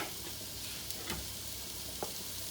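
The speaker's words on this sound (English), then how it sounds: "Sizzle, sizzle." Onions and vegetables frying in a pan give a soft, steady crackling sizzle at close range, with a few faint clicks and taps of stirring.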